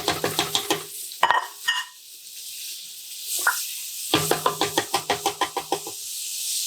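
Tomato sauce hitting a hot dark roux for Cajun spaghetti, with a bright steady sizzle and a spoon scraping the pot in quick rhythmic strokes, pausing midway and then resuming, close and with no talking.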